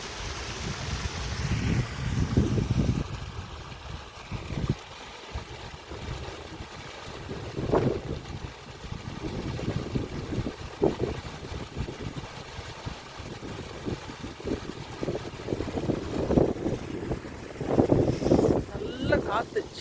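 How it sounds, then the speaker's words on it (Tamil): Cool wind blows across the Meghamalai hills in a continuous, fairly soft rushing roar with fluctuating gusts, while people talk intermittently over it. "நல்ல காற்று, சில்லுன்னு இருக்குது."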